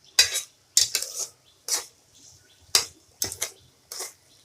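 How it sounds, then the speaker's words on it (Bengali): A utensil stirs gourd seeds frying in a pan, making a series of close, sharp metallic scrapes and clinks in irregular bursts with quiet gaps between them, with no voices. "দিয়ে এটা আরও 5 মিনিট ভালো করে ভাজা করব"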